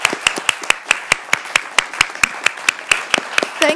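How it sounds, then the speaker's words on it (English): Scattered, fairly quick clapping from a small audience at a parliamentary event honouring the Speaker of the 57th Parliament, with sharp individual claps in a steady rhythm rather than a dense roar. "can we give our Speaker for the 57th Parliament a huge round of applause"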